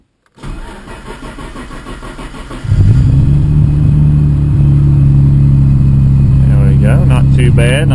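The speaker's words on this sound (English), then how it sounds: "So let's do a cold start on this." A Nissan Skyline GT-R engine cold-starts with a brief cranking whir, then catches into a loud, steady, rumbling high idle that holds close by to the end. A voice speaks briefly near the end.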